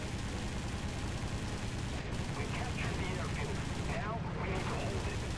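Aircraft machine guns firing in the War Thunder combat flight game, bursts of rattling fire over a constant loud engine roar.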